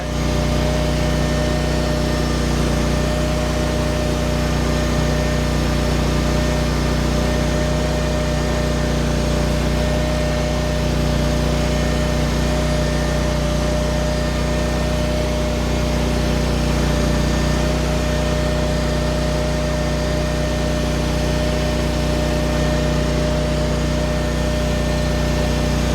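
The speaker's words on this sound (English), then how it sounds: "Likes the higher revs. It's very delayed when it's in the lower revs." A Derette DRT450 engine runs at high revs, giving a steady, loud mechanical drone with a constant hum that holds unchanged from start to finish, with no voices.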